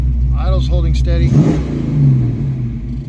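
A Ford 302 V8 car engine, carbureted and being tuned, revs up freely with a steady mid-pitched rumble, partly under a voice at the start.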